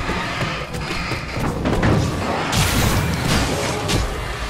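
Fireworks burst in a video game, a run of booming thuds and crackling explosions of varying loudness with no speech over them.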